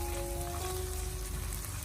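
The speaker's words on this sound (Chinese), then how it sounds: "再把切好的姜葱蒜放进锅中，用小火给它翻炒1小会" Ginger, scallion and garlic stir-frying over low heat in hot oil in a wok, giving a steady, close sizzle and crackle with no voices.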